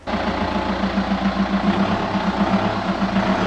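A Volkswagen Golf GT TDI diesel idles nearby with a steady low rhythmic clatter and even pulsing hum, loud and unbroken with no voices.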